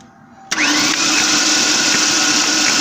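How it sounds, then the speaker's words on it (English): Ford Ranger 3.0L engine with coolant in the cylinders, starter suddenly kicking in after a quiet moment and cranking steadily, a loud continuous whirring drone with faint rhythmic pulses, close by. "That's coolant spitting out of the spark plug holes."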